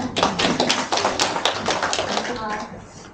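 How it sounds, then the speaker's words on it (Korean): Seated attendees at a university admissions seminar applaud to welcome a presenter with dense, steady clapping that holds for about three seconds before thinning out near the end. "박수로 환영해 주시기 바랍니다"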